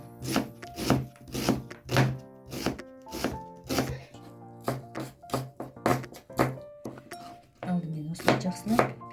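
Onions are chopped with a knife on a board for horse-meat kuyrdak: a fast series of crisp, close chops in bursts with short pauses, with some talking over them.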